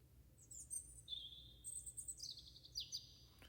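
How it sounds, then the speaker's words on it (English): Small songbirds chirping from a freesound.org sound effect used in a song, with several high, thin tweets and short trills spread across a few seconds over a faint low hum, fairly quiet and without talk. "these are just like little birds chirping that I found from freesound.org."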